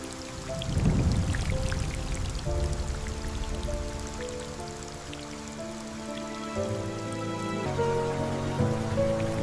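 Steady rain patters under soft melodic music, forming a continuous moderate wash that runs throughout without any voices.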